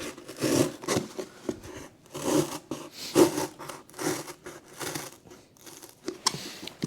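Material being cut by hand while prepping for a Dauntless install, a series of short rasping, scraping strokes repeating in an uneven rhythm, close and fairly quiet with no talking.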